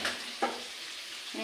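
Spices for a tempering crackle in hot oil: a soft, steady sizzle marked by two brief bursts of popping, fairly faint and close.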